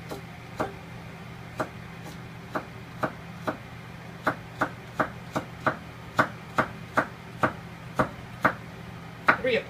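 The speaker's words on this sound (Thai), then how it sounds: "แล้วเราก็จะซอยมันครับ" A knife chops rhythmically on a cutting board, sharp regular taps that speed up slightly toward the end, close and clear against quiet.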